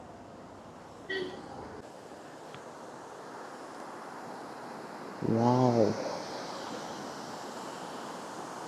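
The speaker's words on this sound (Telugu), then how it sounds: "ఇక్కడ ఏదో వాటర్ ఫాల్ ఉన్నట్లుంది," A small roadside waterfall on a scooter route through tea estates to Valparai gives a steady, close rushing wash throughout, with a brief exclamation from a voice partway through.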